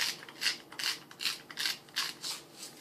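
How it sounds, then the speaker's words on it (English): A salt grinder is twisted over a cutting board, giving about seven rhythmic, close-up ratcheting crunches in quick succession with no talking. "Grind a little salt."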